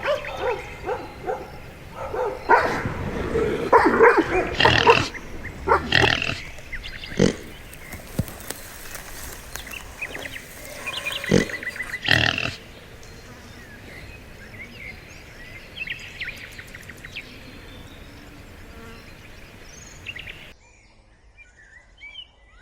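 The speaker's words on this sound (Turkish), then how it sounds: "yaban domuzları yaşam alanlarına yayılan şehrin kıyısında yaşam mücadelesi vermeye başladı" Wild boars on the edge of a city grunt and squeal in loud, irregular bursts, with dogs seeming to bark among them and some bird calls, before fading to near quiet.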